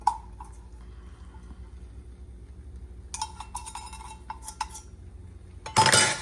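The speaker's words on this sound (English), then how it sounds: "we are just gonna stir that until it melts and is nice and smooth" Cheddar cheese stirred into a pot until it melts: quiet metallic scraping and clinking of a utensil against the pot, sparse at first, then a busier stretch of rapid taps, ending in a louder clatter.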